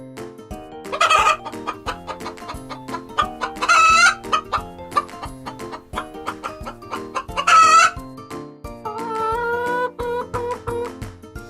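Farm chicken clucking with a rooster crowing, several loud crows cutting in over busy clucking and a light musical backing, close and clear.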